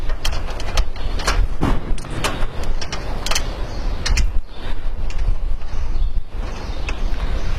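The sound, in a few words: screw being fastened on solar panel mounting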